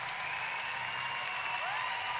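Crowd at a dressage competition, the 2010 World Equestrian Games, applauding and cheering after a horse's test, a steady broad wash of clapping throughout with a faint whistle-like tone rising near the end.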